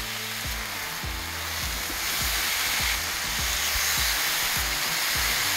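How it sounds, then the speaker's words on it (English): Bacon strips frying on a Blackstone flat-top griddle, a steady broad hiss of grease sizzle running throughout with faint scraping taps from a spatula, no voices. "So the first thing we need to do is get the bacon going on the griddle."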